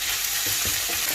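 Paella ingredients, including baby plum tomatoes, fry and spit in a hot pan, giving a steady bright sizzle with a few low stirring knocks underneath.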